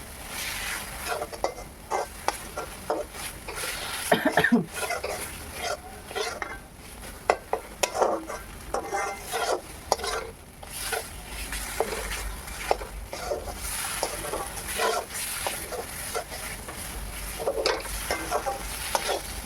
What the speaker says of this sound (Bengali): ভালো করে মশলাকে ভেজে নিতে হবে।